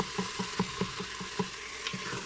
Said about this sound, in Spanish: Entonces ahí vamos a dorarla un poquito así.